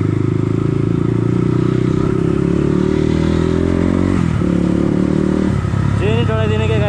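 A motorcycle engine drones loud and close on a Sunday ride to Chunikhel, holding a steady pitch before easing off and rising again near the end.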